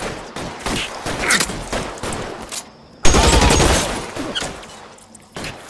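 Rapid bursts of gunfire in the video game L.A. Noire, loud and close, with a sharp volley halfway through that fades into a long decaying rattle, mixed with game action.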